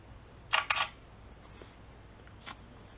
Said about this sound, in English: So the camera shutter is pretty slow off the start, but it gets the shot